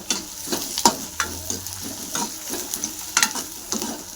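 Sprouted moth beans sizzle in a hot pan while a spoon scrapes and stirs them in irregular clinks and scrapes, close up with a steady frying hiss underneath.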